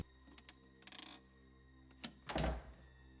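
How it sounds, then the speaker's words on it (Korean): A door-closing sound effect from the horror film Scream, built as a percussive hit: a few light clicks and taps, then a heavy, close thunk that rings briefly, with no talking. "이 소리 같은 경우에는 이제 영화 내에서 문을 닫는 그런 소리인데요."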